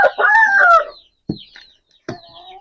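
Home-bred Aseel rooster crowing loudly at close range, one long crow followed by two short clucking calls.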